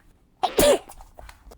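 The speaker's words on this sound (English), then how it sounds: "I gotta sneeze" A woman sneezes during houseplant propagation chores, with a faint breathy intake and then a sudden sharp burst, followed by softer breathy sounds.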